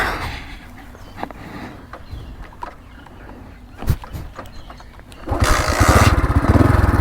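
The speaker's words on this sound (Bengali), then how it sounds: "এই যে বাইক স্টার্ট নিয়েছে।" A motorcycle without self-start is kick-started: a few seconds of quiet clunks and thumps, then the engine catches and settles into a loud, steady close-up idle.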